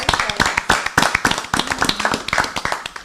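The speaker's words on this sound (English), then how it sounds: "A round of applause." Lively applause from a crowd at a board of education meeting, dense rapid clapping that carries on steadily for a few seconds, close and loud.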